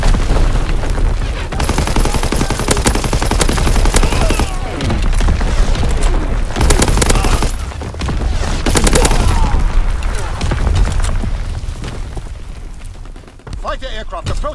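An artillery barrage in a WW2 video game set in the Ardennes forest: heavy, overlapping booms and rolling blasts that continue almost without a break, with brief lulls, and in-game voices talking over the bombardment.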